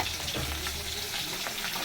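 Amudi fish sizzles in a pan of oil, a continuous close crackling hiss with small bubbling pops.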